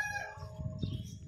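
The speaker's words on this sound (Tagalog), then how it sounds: "Ang daming manok." Faint rooster crowing and clucking chickens from a distance over low background noise, brief and soft.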